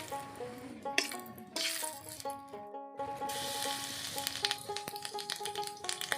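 Dried red chillies, bay leaf, cumin and nigella seeds sizzle and crackle in hot oil as a tempering for jackfruit-seed dal, a steady close frying hiss with scattered pops and a brief lull partway through.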